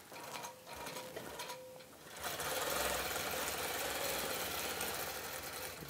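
A longarm quilting machine stitching freehand, with a fast steady mechanical hum and rattle. It starts with a few short bursts, then runs continuously and loudly for several seconds, and no one speaks.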